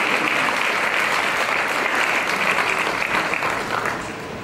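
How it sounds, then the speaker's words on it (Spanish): A church congregation gives a strong round of applause, dense continuous clapping that fills the room and holds steady before easing slightly at the end. "Ustedes un fuerte aplauso."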